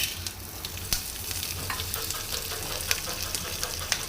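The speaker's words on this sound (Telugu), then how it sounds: "ఈ స్పైసెస్ మంచిగా వేయించుకుందాం" Spices, lentils and chilies fry in hot oil in a bowl with a dense, crackling sizzle up close, scattered with sharp pops and spatters throughout.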